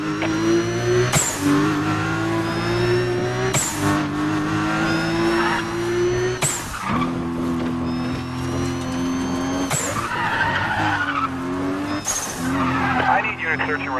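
BMW E46 M3 tearing through a police chase in Need for Speed Undercover, engine droning loud and steady with repeated tire skids, while sirens and police radio voices talk over it throughout.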